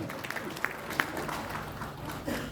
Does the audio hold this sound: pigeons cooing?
no